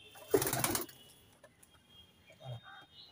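Madras pigeons in a loft give a short, loud coo up close, then a softer second coo follows after a quiet gap, with faint background rustling.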